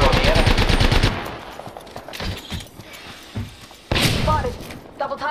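Rapid bursts of automatic gunfire in the battle royale game Apex Legends, a dense volley at the start and another at about four seconds, with quieter thuds and shots between and game voices speaking over it.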